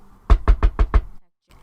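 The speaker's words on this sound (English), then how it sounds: "Naaman knocked on the door." Five firm, evenly spaced knocks on a wooden door sound close and loud in a quick, steady rhythm, followed by silence and a faint rustle.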